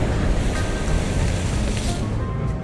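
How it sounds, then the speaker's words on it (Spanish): Ocean waves wash onto the shore in front of a seaside hotel on Avenida Perú in Chile, a loud continuous rushing surge with wind buffeting the microphone and no talk. "las olas van y me mojo"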